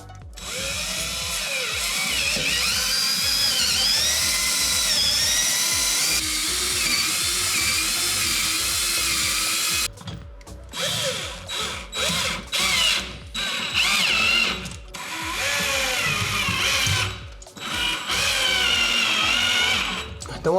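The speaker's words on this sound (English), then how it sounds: "now we do the real drilling" A power drill runs continuously at high speed while building a desk setup, then breaks into short on-off bursts as it bites into the material, loud and close.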